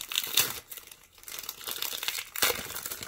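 A 2010 plastic hockey card pack crinkles and tears open up close, with loud bursts of crumpling plastic and a second sharp rip near the end.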